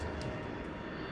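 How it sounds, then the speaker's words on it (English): An airplane on approach to a runway gives a steady, broad engine roar, faint and continuous throughout with no clear rise or fall, and no talking. "They were near the runway when Flight 808 began its approach."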